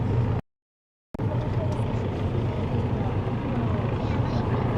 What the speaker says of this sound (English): Is that helicopter going to land on Brooklyn Terminal?